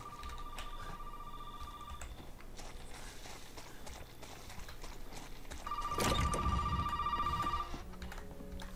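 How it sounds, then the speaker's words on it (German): An electronic telephone bell rings in short repeated bursts inside the horror video game Resident Evil 7, first alone and then again louder over rumbling in-game ambience, with soft footsteps. "Telefon."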